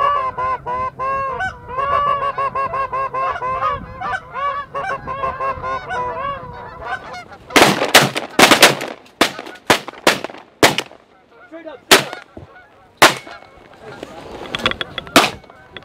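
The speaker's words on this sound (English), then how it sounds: "We got a bunch of geese around." Flock of geese honking repeatedly close by near a lake during a goose hunt, a dense overlapping chorus of calls, followed by a series of loud, sharp shotgun blasts spaced irregularly.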